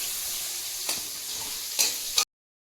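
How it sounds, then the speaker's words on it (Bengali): Chopped onion sizzles in oil left over from frying potatoes, a steady close hiss broken by a few sharp stirring scrapes before it cuts off abruptly. "যা তেল ছিল তার মধ্যেই পেঁয়াজ কুচিটা দিলাম"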